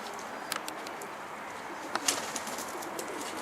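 Karabaş pigeons are let go outdoors, giving faint scattered wing flaps and soft flutters over a hissy open-air background, a couple of sharper bursts of flapping midway.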